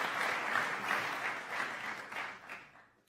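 Applause from a school awards ceremony audience, a dense burst of clapping that holds for a few seconds and then fades out.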